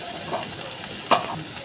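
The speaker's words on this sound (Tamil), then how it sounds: "இப்போ நம்ம அரைச்சி வச்சுருக்கேன் அந்த தேங்காய் இதில் போட்டுருவோம்." Ground coconut, green chilli, garlic and cumin paste hits a hot pan with cauliflower and peas, giving a brief low sizzle and a sharp scrape of stirring near the end.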